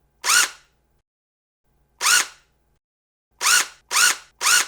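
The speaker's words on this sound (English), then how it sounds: "that is the sound of a power drill" A power drill gives five short, sharp whining bursts, separated by silence, the last three in quick succession, close and loud.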